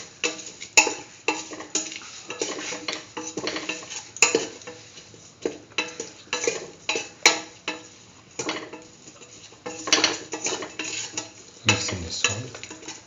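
A spoon scrapes and clatters through cumin tomato rice in a pan while salt is mixed in, with irregular repeated stirring strokes and light metallic taps, close and clear with a faint sizzle beneath.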